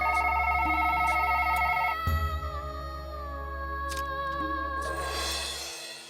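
A telephone rings with a repeating electronic trill over a low hum, then stops, leaving tonal background music.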